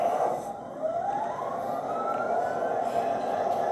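An Atlas Gold MP-36-3C model locomotive starts up, its motor or sound unit whining upward in pitch and settling into a steady electronic hum, close and moderately loud.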